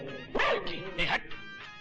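A dog barks and yips in a few short bursts, close and fairly faint, with voices in a Hindi film scene around it.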